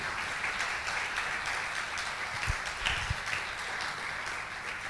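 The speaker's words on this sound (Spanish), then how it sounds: "¿Puede darle un fuerte aplauso al Señor?" Church congregation applauding in praise of the Lord during a sermon, a steady, fairly distant patter of many hands holding evenly throughout.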